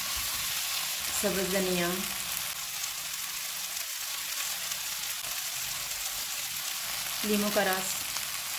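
Kebabs frying in a pan with a steady, close sizzle and hiss that runs throughout, while someone speaks briefly over it twice.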